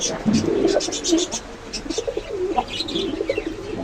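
Desi pigeons coo at a busy pigeon market, their soft repeated calls mixed with chirps and brief wing flaps over a constant crowd murmur and nearby voices.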